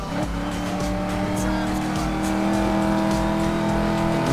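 A Dodge Challenger in Need for Speed Most Wanted (2012) accelerates hard, its engine droning loudly and steadily with rising pitch and some tire noise, while someone talks over it.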